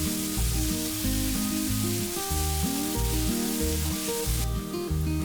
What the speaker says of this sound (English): in a hot pan add oil, add 1 onion chopped, and fry it until the onion is soft